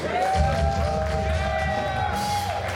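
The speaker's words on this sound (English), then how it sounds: "Giant round of applause, please." A festival audience at the Pablo Center applauds and cheers after a performance by a group of players, a dense wash of clapping with a sustained tone ringing over it.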